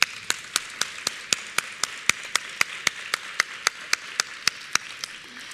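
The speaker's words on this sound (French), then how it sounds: "On peut les applaudir." Audience at a builders' panel clapping in unison, sharp regular claps at an even beat of about four per second over a faint background of scattered applause.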